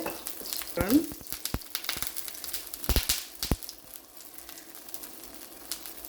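Ghee sizzling in a pan while curry dosai fries, a soft crackling hiss with a few sharper clicks and scrapes of stirring.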